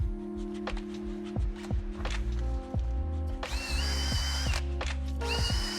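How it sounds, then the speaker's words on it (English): A handheld drill with a wheel stud cleaning attachment works over the studs and hub of a Subaru STI, giving a low humming drone broken by repeated scraping clatters, then a sharper high whirring burst of spinning near the end. "I have this stud clean attachment for my drill."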